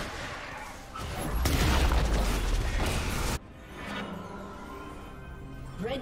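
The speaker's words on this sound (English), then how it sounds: "Red team's turret has been destroyed." A turret collapses in a League of Legends match, a loud booming crash with crumbling debris that cuts off abruptly, followed by quieter game effects.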